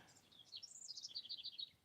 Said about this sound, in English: The birds are chirping right outside my window here.